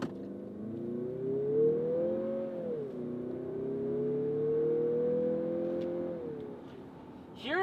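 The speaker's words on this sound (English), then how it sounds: "The all-wheel drive and the turbo engine work very well together. Like, for example, let's do a launch control." A 2023 Mazda CX-50 with a turbo engine and all-wheel drive pulls off in launch control, its engine note rising steadily and shifting through gears, loud and close inside the cabin.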